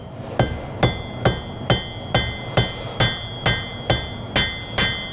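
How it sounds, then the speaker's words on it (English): Steady, evenly spaced hammer blows flattening hot metal, about two strikes per second, each a sharp ringing clang, close and loud. "So I'll start with the face of the hammer and then I'll switch over to the peen."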